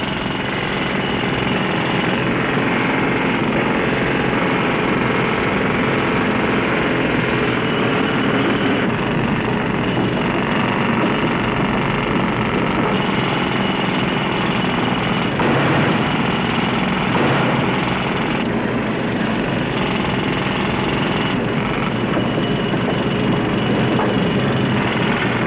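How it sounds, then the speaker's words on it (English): Steady, loud mechanical drilling rattles on inside a river tunnel, a dense continuous grinding din with small shifts in intensity and no voices heard over it. "Get back to your drilling, Riley."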